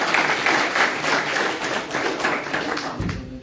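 Steady applause from a crowd at a political gathering welcoming a speaker, dense continuous clapping throughout before it begins to thin at the end.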